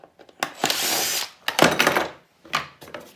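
A power drill backs small screws out of an appliance handle being scrapped for recycling. It whirs in three short bursts, close and loud, with brief pauses between them.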